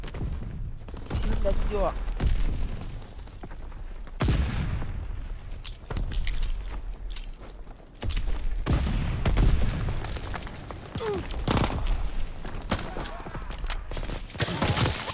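Bursts of machine gun fire and distant booms in a Call of Duty WWII match, sustained volleys recurring through the scene, with a player speaking briefly over them.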